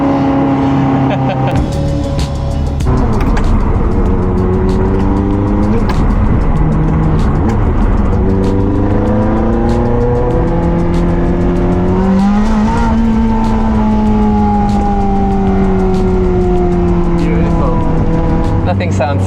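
A car engine revs loudly and close by, its pitch climbing and falling through repeated surges, while someone talks over the steady roar.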